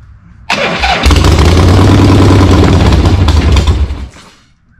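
A 1976 Harley-Davidson Ironhead Sportster chopper cranks and fires up with a loud, close, lumpy roar, runs raggedly for about three seconds, then dies away to quiet.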